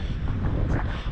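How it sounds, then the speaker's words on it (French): Wind gusts buffet the microphone outdoors beside a camper van in a sheltered natural spot in Spain, a loud, rough, continuous roar with no clear speech. "Il y a du vent, ça oui."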